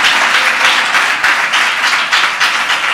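A church congregation claps and praises during a sermon: dense, continuous applause of many hands held at a steady level for the full stretch, with no voices above it.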